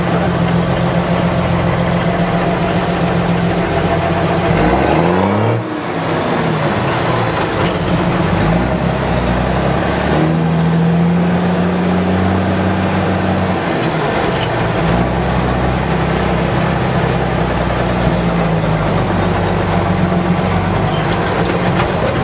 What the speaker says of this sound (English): This is the crawler gear. Going down a hill.